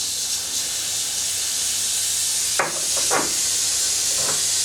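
Air hisses steadily from a leaking valve actuator with the compressor shut off, a constant broadband rush with a few brief clunks and puffs partway through.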